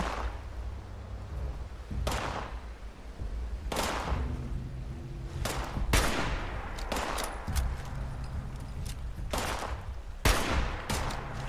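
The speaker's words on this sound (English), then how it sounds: "I hear gunshots, but I don't know where we are" Gunfire in the game Fallout 76: scattered sharp shots and short bursts ring out at irregular intervals over a low background rumble, some near and loud, others further off.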